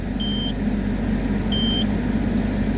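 Two long, steady electronic beeps from an unfastened passenger seat belt warning sound over a constant low engine hum inside a vehicle.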